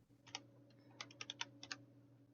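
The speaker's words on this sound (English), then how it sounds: "I'm not used to typing one-handed like Ood is." Someone types one-handed on a computer keyboard: a few sparse, uneven keystrokes, then a quicker cluster of clicks, quiet and close over a low steady hum.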